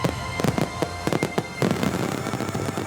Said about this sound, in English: As the first fireworks fill the sky, the stage is drenched in matching crimson.